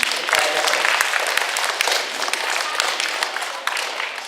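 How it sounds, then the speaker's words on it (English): An elementary school audience applauds student players during an author's visit, a lively, dense patter of many hands with scattered sharper claps, strong at first and easing slightly, with a few voices mixed in. "Round of applause for our players."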